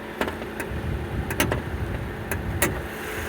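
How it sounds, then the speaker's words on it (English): Mercedes-Benz 4-cylinder engine of a 2018 Infiniti QX30 idling in park, a steady close low hum with a few brief sharp clicks and ticks over it. "that's actually a Mercedes-Benz motor in there. It's a 4-cylinder that makes 208 horsepower and 258 pound-feet of torque"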